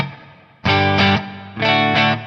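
A distorted electric guitar rings out two strummed chords through a Line 6 Helix legacy plate reverb, each chord sustaining and decaying smoothly into a shimmering tail.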